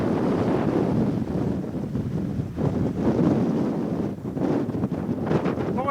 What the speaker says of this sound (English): Boy, that wind's blowing.